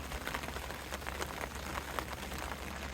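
Steady rain patters on surfaces all around, a dense even hiss with scattered droplet taps, quiet and constant with no voices.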